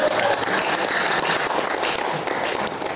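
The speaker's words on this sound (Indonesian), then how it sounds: "Saya minta berikan aplaus buat Pak Adam dan Bu Ani" Steady, dense applause from a seated audience at a halal bihalal gathering of a city government office, many hands clapping together at an even, loud level throughout.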